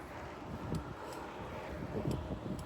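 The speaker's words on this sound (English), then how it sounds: "The wind is picking up a little bit." Outdoor wind gusts buffet the microphone in a low, steady rumble that swells and eases, with no voices.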